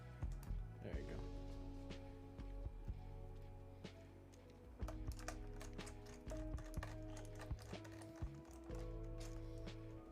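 Rapid clicky typing on a tape-modded mechanical keyboard fitted with Kailh Speed switches, a dense run of close, sharp key taps with brief pauses, over steady low background hum.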